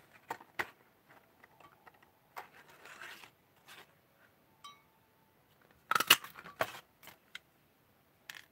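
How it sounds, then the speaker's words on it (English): A paper punch works around an image on a card, giving a scattering of sharp, close clicks and crunches at irregular intervals, with a louder cluster near the end. "I'm going to punch around it."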